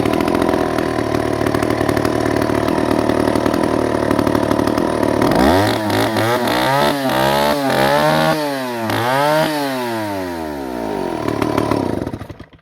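A Stihl 117 chainsaw runs at a steady high pitch, then revs up and down repeatedly in several rising and falling sweeps before cutting off at the end, loud and close.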